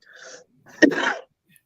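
A single sharp human sneeze with a brief breathy intake before it, heard close and alone.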